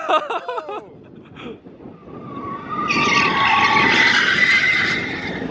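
Mazda Miata tires skidding while understeering on a cone course, a rising tire squeal that builds and holds for the last few seconds, preceded by brief voices exclaiming.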